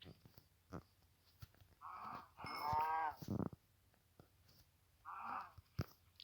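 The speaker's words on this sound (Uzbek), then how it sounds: "Sigirlar, qochmalaring." Cattle moo in a few short, nasal calls at moderate distance, with chewing and small clicks in between against a quiet background.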